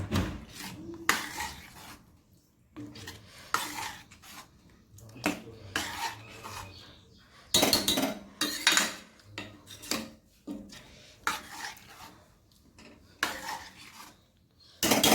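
Chickpea chole in a pot stirred with a spoon, rhythmic bursts of metal scraping and clanking against the pot, each lasting about a second with short pauses between, close and fairly loud.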